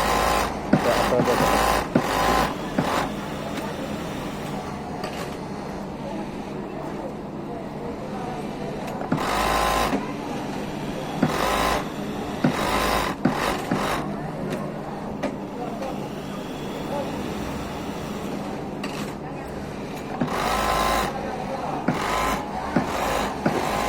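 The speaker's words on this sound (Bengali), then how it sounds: "এখানে আমাদের অপরটার লেগ হ্যাম করতেছে একটা আলাদা মেজারমেন্ট দিয়ে" Industrial sewing machine in a garment factory stitching the leg hem of trousers, a busy mechanical whir that runs in repeated bursts with short pauses amid steady factory noise, while a voice talks over it.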